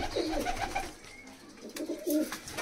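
Large pet pigeons coo in soft, throaty, rolling bursts, near and moderately loud, with a short lull in between and no talk.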